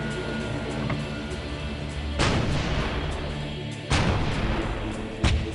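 An Archer automated artillery system fires three heavy, booming shots spaced a second or two apart, each a sharp blast over a steady low mechanical rumble, with no talking.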